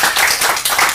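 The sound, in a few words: audience applause at a city meeting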